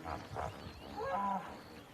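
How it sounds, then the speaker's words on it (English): A hippo calls from a lakeside in Rwanda: a short, low, moo-like grunting bellow, moderately distant, swelling briefly over a couple of seconds against quiet outdoor background. "That is the sound of a hippo."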